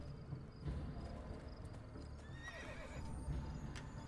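A horse whinnies in a shrill, wavering call in the video game Assassin's Creed II, with a few hoof clip-clops and soft ambient background around it.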